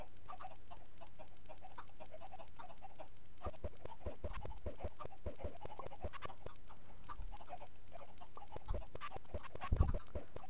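Many chickens in Minecraft clucking and squawking in a busy, overlapping chorus, moderately quiet, with scattered sharper cackles toward the end.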